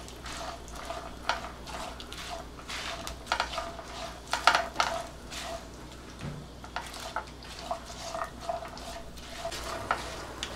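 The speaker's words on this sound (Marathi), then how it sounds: "चण्याची डाळ थोडीशी लालसर झाली की आपण शेंगदाणे घालतोय। हे पण एक परतून घ्यायचे।" Chana dal and peanuts stir-fried in a pan, with a soft steady sizzle broken by scattered scraping and stirring clatter, fairly quiet and continuous without voices.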